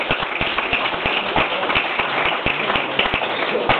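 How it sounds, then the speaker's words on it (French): Audience applause at a Paris comedy club, a dense patter of many hands clapping close and steady, with a few louder individual claps standing out. "Mesdames, Messieurs, merci d'applaudir Christopher Reggiani."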